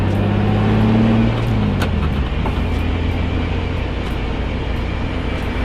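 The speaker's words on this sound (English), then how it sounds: "I will try to get as low as I can into the RPMs and high load by doing some brake boosting" Boosted BMW engine held at low RPM under high load in 4th gear while brake boosting, a loud steady drone with a low tone that drops slightly partway through and then holds, no voices.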